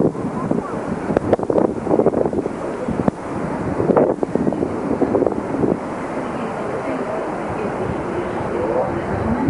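Gusty sea wind on the coast of Samos, Greece, in the early evening, buffeting the microphone in broad rushing surges with a few sharper thumps, steady and close throughout.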